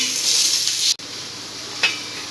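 Garlic, ginger and curry leaves fry in a pan with a bright, steady sizzle, broken by a short clack partway through and a light stir scrape near the end, close and without talk.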